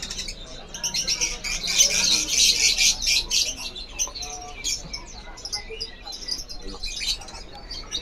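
Loper-type canaries sing in a bird shop, bright rapid trills and chirps layered from several cages, loud and continuous with some background noise and no clear talk.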